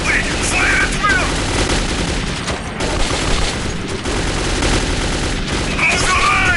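Automatic gunfire in the video game Metro 2033 rattles in dense, continuous bursts throughout, mixed with shouted in-game voices and overlapping battle noise.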